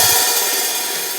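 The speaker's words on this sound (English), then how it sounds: "I sizzle it by closing the cymbals gently but not firmly" Brushed hi-hat cymbals gently closed so they sizzle rather than chick, a bright sustained hiss that fades slowly over about a second, close and fairly loud with no voices.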